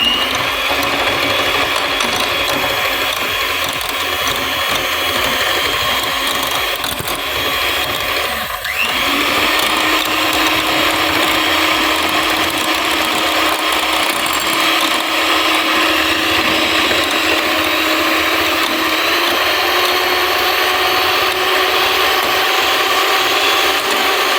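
An electric beater whipping cream mixed with cocoa powder and coffee powder for a no-oven chocolate cake, a steady loud whirring motor drone that barely changes, briefly dipping in pitch midway.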